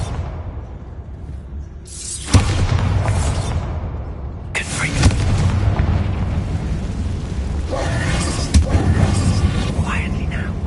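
A Bombarda spell detonates inside an old closed mine in Hogwarts Legacy, giving loud booming blasts with a long rumbling, debris-filled roar that swells in bursts and sustains throughout.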